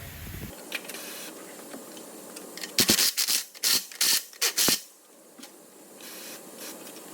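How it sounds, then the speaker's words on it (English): An impact wrench working on a strut top nut of a BMW i3 fires in a series of about five sharp, loud rattling bursts close by, with quiet gaps between them and faint clinks before and after. "I'm just going to try and undo it with the buzz gun"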